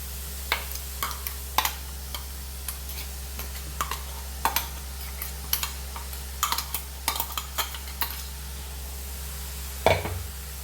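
Papaya thoran with grated coconut stirred in a pan: scattered spatula scrapes and taps at irregular intervals over a steady low hum, no talk.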